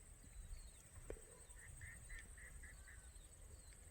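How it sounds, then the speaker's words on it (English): A run of faint duck quacks, about six in quick succession, sounds from a distance over a low outdoor rumble and steady high insect-like hum. "Can hear plenty of ducks."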